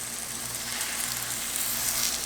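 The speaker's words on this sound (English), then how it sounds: "We want that sizzle." Chicken breasts sizzle in a buttered pan over raised heat, giving a steady, close hiss of frying that holds evenly throughout with no voices.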